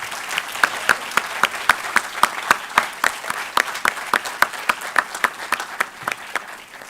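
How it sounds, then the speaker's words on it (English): Audience applause for school performers after a vocal ensemble piece, a loud, close wash of clapping with sharp individual claps standing out in a fairly regular rhythm, no talk. "Could we please have another round of applause for all of our performers?"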